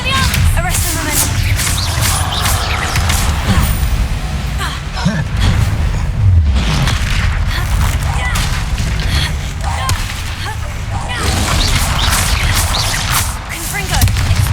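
Loud, dense explosive blasts and whooshing spell effects from the Confringo fire spell in the video game Hogwarts Legacy, a continuous barrage of booms and cracks through the whole stretch with a voice speaking amid the combat.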